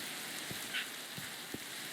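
Steady rain falls in a pirate adventure game, a soft continuous hiss of drops on surfaces with a few faint low thumps scattered through it, with no talking.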